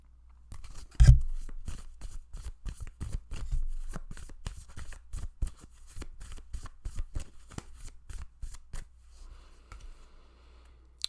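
Tarot cards being shuffled by hand, a long run of crisp riffling flicks and soft slaps up close, steady at first and thinning out toward the end, with no talking.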